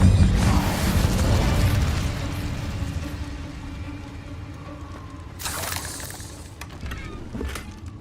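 Spell casts and fiery explosions in the video game Hogwarts Legacy: a loud rumbling blast fading over several seconds, then sharp whooshing bursts and crackles of magic, with no talk.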